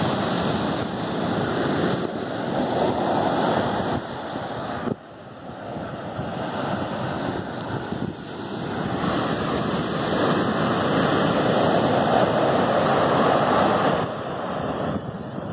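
Ocean waves break on the beach at Barra do Jucu in Brazil, a loud continuous roar of surf with swelling crashes and gusty wind buffeting the microphone, no voices.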